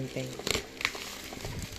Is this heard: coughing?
no